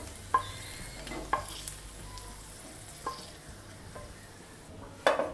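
Cashews and raisins fry in ghee for rava laddu. A faint, low sizzle sits under a few sharp, separate clinks of a spoon against the pan, with a louder clatter near the end.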